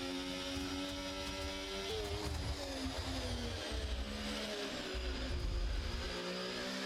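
Ferrari race car engine in a racing video game at a Netherlands race, a loud sustained high-revving howl with pitch climbing and dropping through gear shifts, heard alone.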